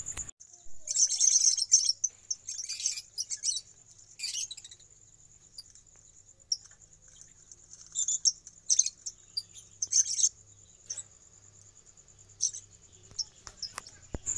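Many lovebirds in a breeding colony chirping and twittering in bursts, high-pitched and busy, with a faint steady insect-like hum underneath.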